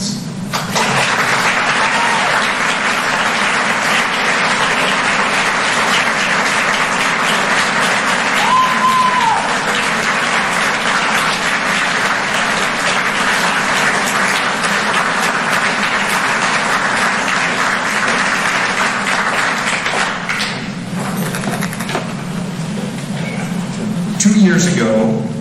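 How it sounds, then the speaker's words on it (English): A seated audience gives sustained applause for invited guests and police officers, a broad, even wash of clapping lasting well over twenty seconds before tapering, with some murmuring and voices near the end. "I want to begin our program with a round of applause for our invited guests and any"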